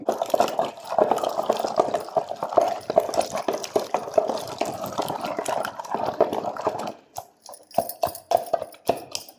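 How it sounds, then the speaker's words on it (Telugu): Green chillies mashed in a pot with a wooden dal masher, a rapid, steady series of soft wet squelching thuds, close and fairly quiet, pausing briefly near the end before resuming. "ఫస్ట్ పచ్చిమిర్చి బాగా మెదిగేలాగా రుద్దుకోవాలన్నమాట"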